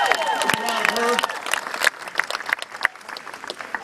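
An audience at a President Barack Obama campaign event in Maumee, Ohio breaks into loud applause and cheering that fades toward the end.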